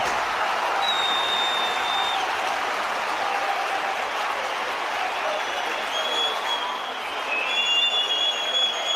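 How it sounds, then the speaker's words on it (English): A Premier League stadium crowd at Southampton against Manchester City roars in a sustained, loud cheer that holds steady throughout, with a faint rise near the end. "Biggest cheer of the afternoon."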